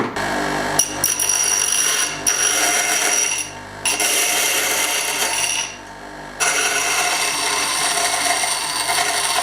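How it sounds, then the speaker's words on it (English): A bench grinder rounds off the edges of hooks with a loud, steady, close grinding whine. It cuts out briefly twice, then resumes. "I'll just round the edges off now on the bench grinder."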